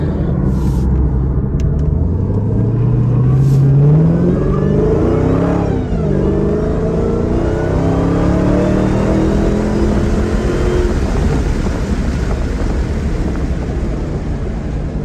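A Dodge Challenger Hellcat driving through Las Vegas, its engine rising in a brief rev before settling into a steady, heavy rumble under constant road and wind noise, with no voices.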